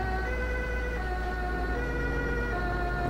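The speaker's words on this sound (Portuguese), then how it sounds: "Será é que a ambulância vai virar à esquerda também?" An ambulance siren wails steadily and continuously in street traffic, as heard from inside a bus, with a low engine rumble underneath.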